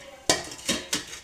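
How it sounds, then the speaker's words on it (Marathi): Dishes, pots and pans being washed, three sharp metallic clatters spaced about half a second apart, close and clear against a quiet background. "भांडी घासते"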